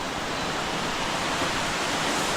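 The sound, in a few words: Banjara waterfall in Kasol, Himachal Pradesh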